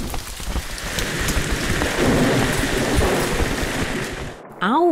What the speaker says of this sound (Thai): ฝนตกแล้วเรารีบเข้าบ้านกันเถอะ